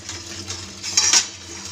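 Freshly washed dishes and utensils clatter briefly in a home kitchen, a short bright burst of clinking and knocking near the middle over a low steady background hum.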